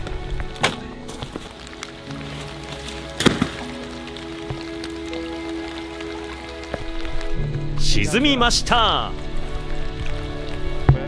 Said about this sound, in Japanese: この雨は強いわけでもなく弱いわけでもありません。